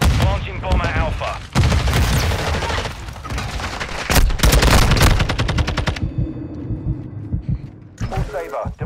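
Gunfire in a Search and Destroy match of the game Call of Duty: Modern Warfare 2, with loud rapid automatic bursts and booms in dense clusters, broken by short gaps, as game voices speak under and between the shots.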